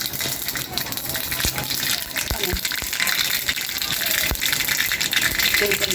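Mustard seeds crackle in about two spoonfuls of hot oil in a small tempering pan for dahi pakodi, giving a steady sizzle broken by sharp scattered pops, with a voice speaking briefly over it.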